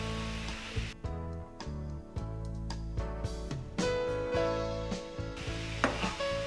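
Honey and sesame sauce being stirred in a pan, a steady sizzle with scraping spoon strokes running throughout, fairly close, with light background music and no talk.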